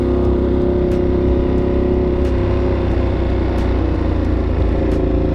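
A Ducati Monster 1200S with an Avionic exhaust idles and rumbles steadily nearby, a loud, continuous low engine drone with no talk.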